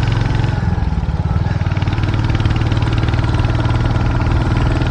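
A motorcycle engine runs steadily at a low, even idle-to-cruise throb on a bike ride in Nepal, loud and close throughout with no talk.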